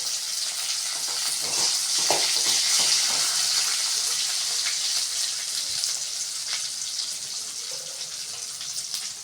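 Grated beetroot for poriyal fries in a kadai, giving a loud, steady hiss and crackle of sizzling oil throughout, with occasional soft stirring scrapes and no talking.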